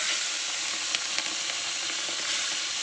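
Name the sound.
prawns frying in oil with turmeric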